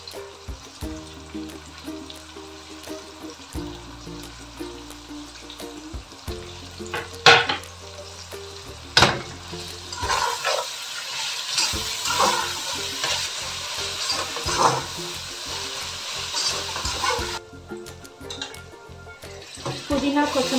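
Mint and coriander leaves being fried and stirred in a pan for biryani, a steady sizzle with scraping stirs, partly under background music and a speaking voice.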